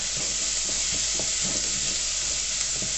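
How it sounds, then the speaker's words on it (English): Garlic fries in a hot pan with a loud, continuous sizzling hiss, close up, and soft scraping of stirring underneath. "We're only going to fry the garlic for about 30 seconds to a minute at the most"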